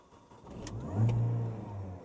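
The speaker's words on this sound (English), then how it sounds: "And you get that supercharger whine." A Mini Cooper R53 John Cooper Works engine fires up close by with a rising rev, settling into a steady idle that carries a faint supercharger whine, with no voices.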